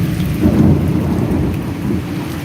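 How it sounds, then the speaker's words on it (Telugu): Heavy rain pours in a thunderstorm, with a deep, continuous rumble of thunder underneath. The downpour is loud and steady throughout, with no voices. "అద్భుతమైన ఉరుములు మెరుపుల ధ్వనులతో ఆనందకరమైన వర్షం నేలను చిత్తడి చేస్తూ"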